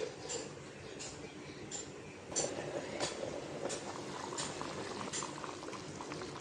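Beef and potato curry boiling under a lid in a pot, a steady bubbling simmer with soft, irregular pops and gurgles that stay even and close throughout.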